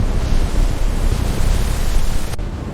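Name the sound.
stormy sea with waves and wind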